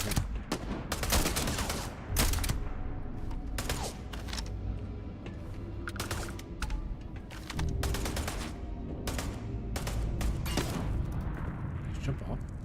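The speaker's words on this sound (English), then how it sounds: "Shooting the guy over here." Gunfire in the video game Starfield, a string of sharp shots in uneven bursts with short gaps between them, heard over an ongoing bed of game noise.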